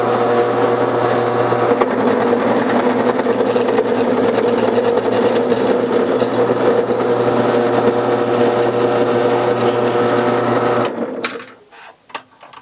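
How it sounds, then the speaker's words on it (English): A drill press runs a roll crimper on a Moose Minie ball slug, making a loud, steady mechanical whir and hum for about eleven seconds before it spins down to a few faint clicks and knocks. "I just adjusted the drill press to give us a little bit more depth of crimp."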